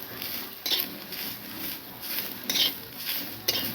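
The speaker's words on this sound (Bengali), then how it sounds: "কড়াইয়ের মধ্যে আমরা দিয়ে দিচ্ছি নারকেলটা, যেটা আমরা ঘষে রেখেছিলাম" Freshly grated coconut is stirred and dry-roasted in a kadai, giving soft scraping and a few sharper clinks of the spatula against the metal pan, fairly quiet and close.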